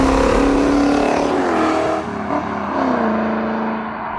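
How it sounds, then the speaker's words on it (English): The 7-litre V8 of a 1967 Shelby Mustang GT500 rumbles and revs, a deep throaty roar that rises and falls as the car drives, fairly close. "So I'm driving a Shelby Mustang GT500. The noise! Oh my god, 7 litres!"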